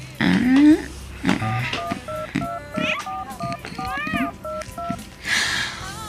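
A cellphone keypad beeps as a phone number is entered, a quick run of short, evenly paced dial tones in the middle, with voices talking before and after the keypresses.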